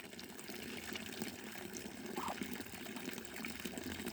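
Water flows and circulates through a duck pond, giving a continuous, soft gushing and trickling wash that stays faint and even throughout, with no voices.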